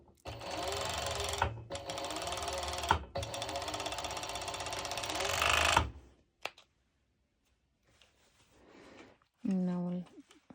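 A sewing machine runs in steady bursts while stitching the second side of a pair of ruched-back bikini bottoms with three straps, loud and close for about six seconds, broken by short pauses, then quiet handling noises and a brief voice.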